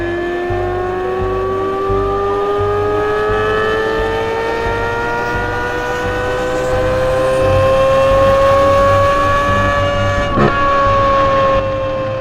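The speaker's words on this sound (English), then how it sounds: "The flat plane crank is a symphony." A 2023 Chevrolet Corvette Z06 supercar with a flat-plane-crank V8 revs loud and close, a sustained high engine wail climbing steadily in pitch over about twelve seconds, with a brief crackle near the end.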